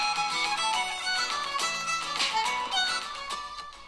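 An Oppo A58 phone speaker plays bright, busy music, continuous and fairly loud, with no voices over it.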